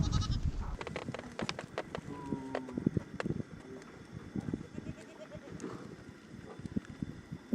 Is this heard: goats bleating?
yes